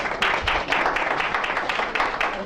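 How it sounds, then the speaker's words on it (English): Audience clapping in a small room at a wellness-center tenants' introduction, a steady patter of many hands at close range, continuous and fairly loud throughout. "y'all are applauding"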